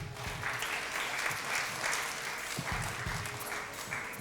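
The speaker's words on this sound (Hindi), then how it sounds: "बहुत सारी तालियां इनके लिए" A studio audience at a Ramadan quiz show claps steadily and densely for a contestant's correct answer, the applause filling the space at moderate volume throughout.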